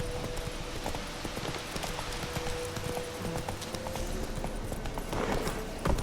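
Roach the horse's hooves clip-clop steadily on the ground in The Witcher 3, a continuous rhythmic trot of hard hoofbeats under faint game ambience and no speech.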